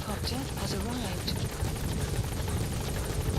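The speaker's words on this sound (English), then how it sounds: "Support helicopter has arrived." Video game support helicopter arriving at a landing zone, a steady rotor chop and engine wash at moderate level with faint game voices underneath.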